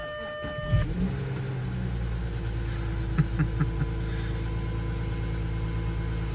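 A diesel engine cranks briefly after glow plug warm-up, catches and settles into a loud, steady idle close by, with a few brief clicks partway through, on a cold, icy morning.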